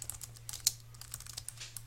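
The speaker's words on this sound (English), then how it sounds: "So I'm going to type a little passage here." Typing on a computer keyboard while writing a passage in a Google Drive document: quiet, close, irregular clicks of individual keys, one sharper tap standing out, with no talking.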